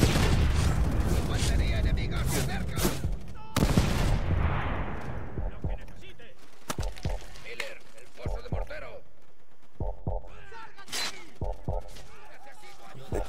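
Gunfire from a Japanese machine gun in the video game Call of Duty: World at War, with loud rapid bursts and booming blasts up front, then scattered shots and rattling bursts further off while voices shout.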